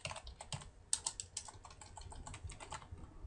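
Rapid keystrokes on a computer keyboard, close and crisp, tapping in irregular bursts with no voices.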